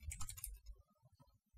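Computer keyboard typing in a Linux terminal, a quick, soft burst of keystrokes close to the mic, then a few scattered faint taps.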